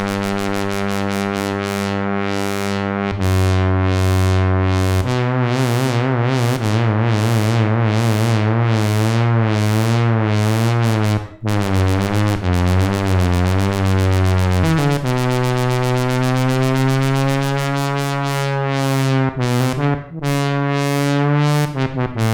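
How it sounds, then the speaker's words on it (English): Roland System 100 Model 101 synth filter swept by the LFO of an Oberheim SEM, producing a loud, steady held tone with rhythmic wah-like pulsing that changes speed and depth over time, with no voices. "what you're hearing now is the LFO from the SEM controlling the filter of the 101."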